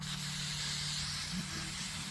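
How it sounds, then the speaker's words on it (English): An aerosol can sprays cutting oil onto gas pipe during a home gas piping installation, giving a steady, quiet hiss that runs unbroken for a couple of seconds. "So gonna show you here real quick with this oil, and it's just an aerosol can."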